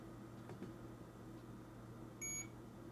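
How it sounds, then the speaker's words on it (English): Emax Buzz FPV drone flight controller giving a short, clear electronic beep late on, over a steady low hum of background noise. "you'll hear the flight controller. It'll beep."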